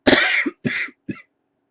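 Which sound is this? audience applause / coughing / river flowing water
coughing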